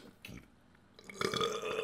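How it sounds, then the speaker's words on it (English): Close, loud burp from a person with hiccups, preceded by a couple of faint short throat sounds, with no talking. "they're making me burp right after"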